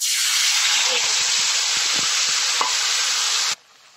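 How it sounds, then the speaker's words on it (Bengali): Nigella seeds and spice paste sizzle steadily in hot oil for a kofta gravy of raw jackfruit, a dense continuous frying hiss with faint stirring clicks, close and loud, cutting off abruptly near the end. "এখন এই যে তেলটা গরম হয়ে গেছে, কালি জিরা দিয়ে দেবো"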